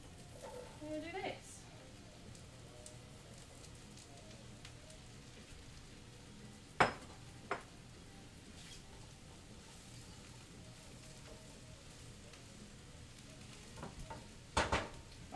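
Onions sweating in a pan for pierogi filling give off a faint, steady hiss with a few soft clicks and scrapes of stirring, and a voice is heard briefly near the start.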